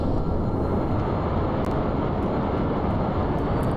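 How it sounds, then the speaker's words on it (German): Shuttle engines in the video game Kerbal Space Program roar steadily like a jet about to take off, a loud, dense, continuous rumble that holds unchanged throughout with no voices. "das hört sich auch richtig an wie so ein Jet, der gleich abhebt"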